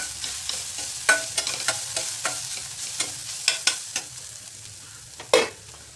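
Chilli and carrot stir-frying in a pan for momo filling over a low flame, a quiet hiss punctuated by a regular series of sharp spatula scrapes and taps, with one louder clack toward the end.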